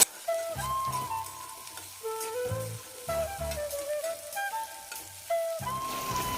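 A tempering of spices fries in a pan for a small-fish tamarind curry, a soft steady sizzle with faint crackles under a tonal background, with no voice over it.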